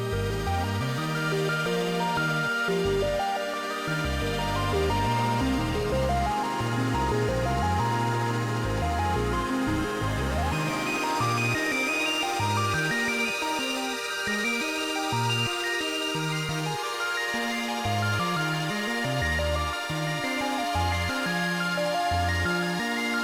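Modular synth patch playing a broken-chord arpeggio over a Marbles-generated bass line, steady layered tones with a pulsing low end and a chord change midway, no voices.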